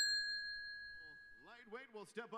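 A bright notification bell rings once and lingers in a fading shimmer, followed by a voice speaking.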